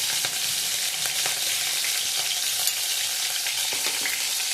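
Green chillies frying in hot oil with cumin and curry leaves in a pan, a continuous close, loud sizzle with occasional crackles and stirring.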